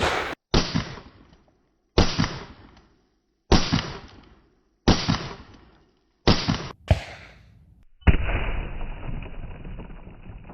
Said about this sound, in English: I'm going to be taking some shots at that to see what happens, to see the effects of the 45 ACP against the ice